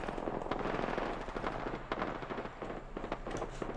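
Rapid automatic gunfire from the video game Apex Legends, with dense overlapping bursts of shots running almost continuously at close range and loud throughout.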